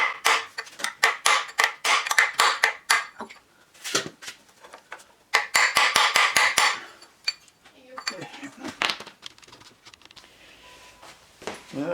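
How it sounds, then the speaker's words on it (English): Rapid metallic hammer blows ring out close by while a core plug on a 2009 Mini Cooper engine is knocked at, with dense bursts of strikes, a short pause, then another flurry and scattered lighter taps. "this puppy looks like it's requiring a bit bigger hammer"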